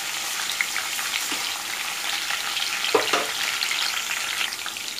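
Ginger garlic paste fries in a pan for dal toori, a continuous close sizzle and crackle with occasional scraping stirs, heard alone without talk.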